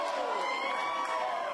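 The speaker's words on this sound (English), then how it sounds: "fans happy to cheer on the Colts here at home" Crowd of Indianapolis Colts football fans cheering at home, a dense continuous roar of voices with whoops, steady and fairly loud throughout the short stretch.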